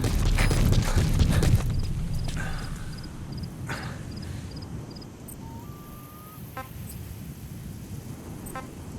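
Horse hooves galloping in the video game Metal Gear Solid V, a rhythmic clip-clop run with a faint rumble and scattered soft game tones behind it, moderately loud at first and then quieter.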